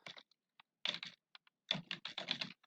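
Quiet keystrokes on a computer keyboard, a few scattered taps and then a quicker run of typing, close and soft with no talking.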